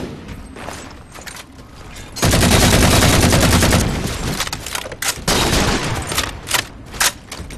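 Loud bursts of rapid automatic gunfire from a first-person shooter match, with a sustained fusillade in the middle and more intermittent shots trailing after, up close and dense.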